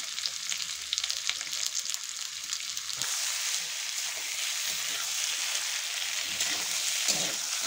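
Boiled potatoes and chopped tomato fry in a pan, giving a steady, close hiss of sizzling oil throughout, with a shift as the food goes in and occasional stirring scrapes, no talking.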